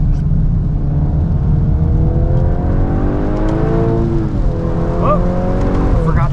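A 2025 Volkswagen Golf R or GTI laps a wet Road America race track, its engine loud and close, revving steadily with rising and falling pitch through gear changes.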